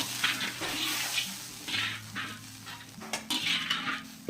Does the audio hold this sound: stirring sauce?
yes